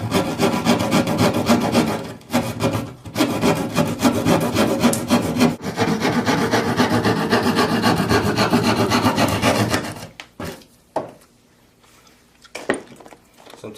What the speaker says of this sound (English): Sometimes this won't fit exactly right. So you just saw a little more off.